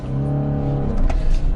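A Jeep Gladiator Mojave with a manual gearbox, in four-wheel drive high on desert terrain, sends out a loud, close engine drone that swells as it pulls away.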